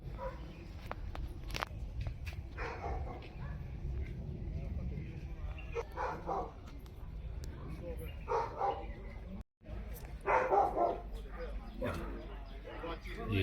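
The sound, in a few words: dogs barking along the trail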